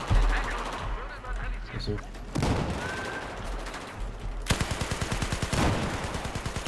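Rapid automatic gunfire from Battlefield 4 on the Propaganda map, sustained bursts of closely spaced shots with a denser rattling volley near the end, with a brief voice speaking over it.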